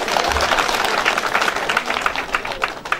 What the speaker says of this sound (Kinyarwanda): Mwanyongera amashyi